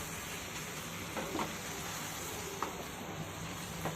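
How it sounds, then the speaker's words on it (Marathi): Thick kalakand milk mixture cooking and being stirred in a pan, a steady soft sizzle with faint scraping strokes from a spoon, close and fairly quiet, with no talking. "थोडं आपण शिजून घेऊया आणि घट्ट होईपर्यंत परतून घेऊ"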